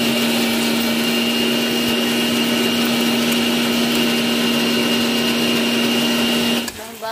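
A kitchen mixer grinder whirs at a steady high-pitched drone for several seconds, loud and close, then cuts off abruptly near the end.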